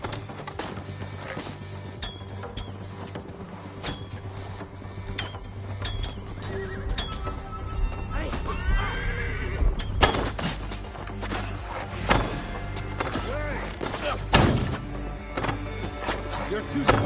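Horses in Assassin's Creed Valhalla whinny and neigh amid galloping hoofbeats and battle clamour, with voices speaking over the steady, busy game mix.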